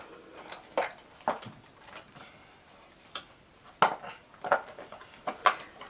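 Hair dye being mixed in a bowl, giving a run of light clinking taps, scattered and irregular, quiet and close, with no talking.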